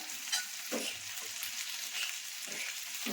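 Soft, crackling sizzle of beef frying in oil, with a few scrapes of stirring breaking through now and then; no talking.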